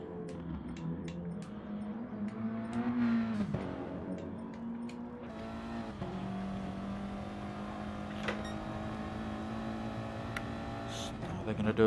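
Audi TT race car engine on an onboard lap in a racing video game, a steady droning engine note rising and falling through gear changes, with a voice talking over it throughout.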